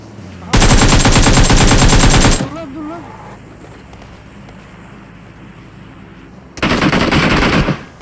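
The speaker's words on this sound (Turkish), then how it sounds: "Hakan vur şunu Hakan." Loud bursts of automatic gunfire in PUBG Mobile on the Erangel map, one long burst of about two seconds and a second shorter burst later, with quieter game ambience and a few brief voice sounds in between.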